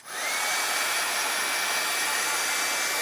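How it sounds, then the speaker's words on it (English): A heat gun blows steadily over watercolor paint, a loud, even hot-air roar with a high whine that starts almost at once and holds without a break, close to the microphone. "Let me give this a quick shot with my heat gun."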